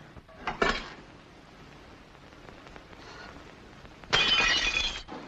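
Glass shatters twice in an old film scene: a brief crash early, then a louder, longer burst of breaking glass near the end, with a quiet room in between.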